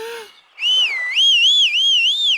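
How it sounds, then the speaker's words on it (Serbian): A boy's secret signal whistle in an animated children's story, a short note followed by a loud, sustained wavering whistle that rises and falls in steady swoops. "Bobby je zviždao iz sve snage."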